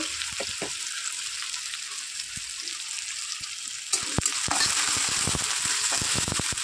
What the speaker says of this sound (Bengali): পেঁয়াজটা দিয়ে আমি একটু নাড়াচাড়া করে নিলাম